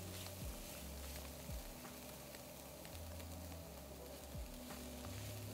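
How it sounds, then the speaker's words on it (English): Garlic sautéing in a pot for chicken dumpling soup gives a steady, close sizzle with soft hiss throughout, occasional low clunks of a utensil stirring. "Just want a little bit of saute action on this garlic."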